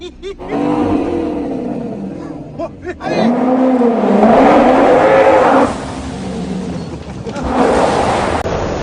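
A luxury car's engine revs and pulls away, loud and close, with the roar rising and falling in surges over roughly nine seconds.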